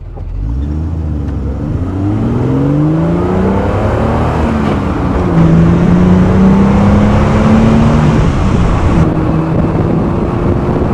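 A 1970 Triumph TR6 with a 2.5-liter inline six accelerates hard, its engine note climbing through the gears in rising sweeps with brief dips at shifts, loud and close with wind rush over the open car.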